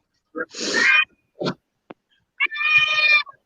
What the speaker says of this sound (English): It is a loud cat.